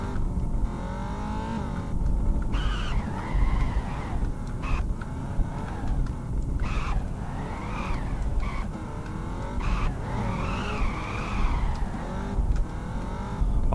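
Engine of a Nissan GT-R drift car revving hard in the Peak Angle video game, with repeated tire squeal and skidding as it slides, loud and continuous throughout with no talking.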